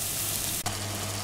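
Onion sautéing in a pan for a meat and tomato dish in a home kitchen, a steady close sizzle and frying hiss with a brief stir or clatter midway, no talking.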